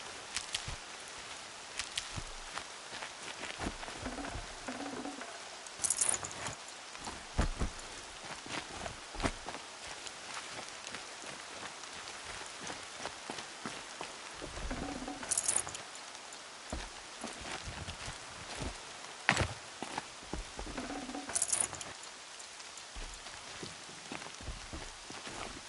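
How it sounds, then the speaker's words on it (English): Rain falls in the Horizon Zero Dawn video game, a steady soft hiss of drops with occasional footsteps and faint distant sounds, continuous and fairly quiet. "Rain's not so bad."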